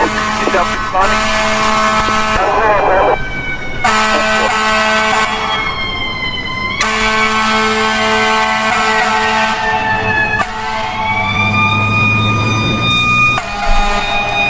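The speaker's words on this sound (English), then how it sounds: "So you can see a lot more horn," A loud emergency vehicle siren in the video game EmergeNYC wails and sweeps up and down, cut by blaring air horn blasts, with abrupt shifts in pattern.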